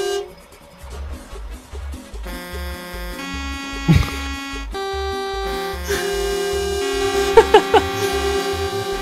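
Long blaring truck horn blasts in a video game switch between pitches over a steady rumbling engine drone, with a couple of brief sharp honks near the end.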